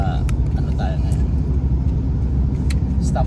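Steady low road rumble heard from inside a car crawling through traffic near SM Tanza in Cavite, with a few faint clicks and people talking over it throughout.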